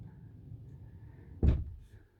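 A Carthago Chic c-line i4 9 LE motorhome door mechanism finishes opening with a faint mechanical hum followed by a single close, solid thunk, then quiet.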